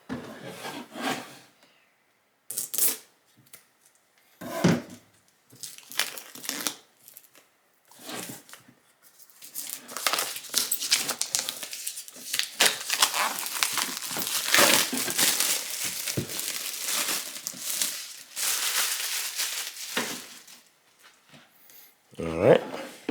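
Shrink wrap on an Asus ROG Flow Z13 laptop box is cut and pulled away in bursts of close, crisp crinkling and rustling, some louder and longer than others, with a person talking at intervals.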